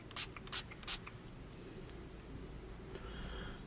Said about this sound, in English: First things first, I'm going to just spray it,